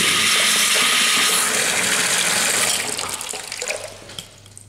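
Water gushes hard from a water main at over 10 bar of pressure. A loud, close, broadband roar holds steady, then fades and thins to a sputtering trickle.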